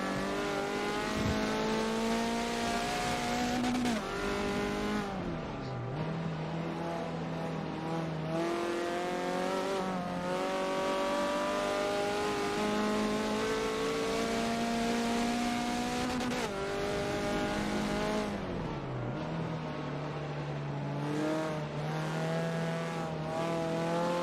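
Mazda MX-5 race cars lap in a sim racing video game endurance event, engines droning continuously and loud with repeated gear shifts and revving pitch sweeps, occasional tire squeal, no voices.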